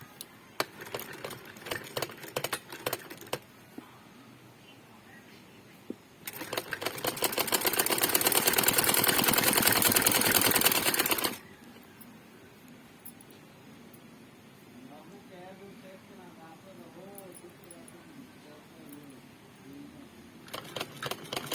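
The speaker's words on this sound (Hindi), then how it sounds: "ये इस तरह हम पूरा बाजू सिलाई कर लेंगे।" A sewing machine stitches the sleeve of a frock, running in one loud continuous burst of several seconds between quieter handling noises and light background sound.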